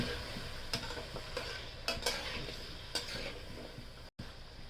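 Potatoes for an aloo curry are stirred in hot oil, with a soft sizzle under repeated spoon scrapes and clinks against the pan at uneven intervals and a brief silent gap near the end, no talking.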